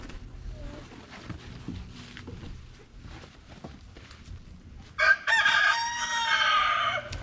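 Chickens on an off-grid homestead farm call out, starting with low, scattered background sounds, then a loud, close burst of crowing-like fowl calls in the last couple of seconds.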